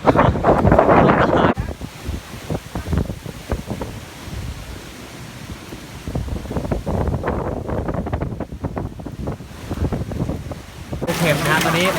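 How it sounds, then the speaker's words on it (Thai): A hailstorm with heavy rain and strong wind rumbles and roars, with gusts buffeting the microphone and a dense wash of precipitation, while someone talks intermittently over it. "ตอนนี้ฝนตกหนักแล้วก็ลูกเห็บหล่น"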